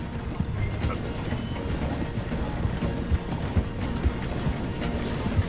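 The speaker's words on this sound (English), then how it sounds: "The train is slowing down to go through the station." Train slowing toward a station in Red Dead Redemption 2, with horse hooves clip-clopping alongside; a steady rumble of rolling cars and hoofbeats runs throughout, moderately loud with no talk.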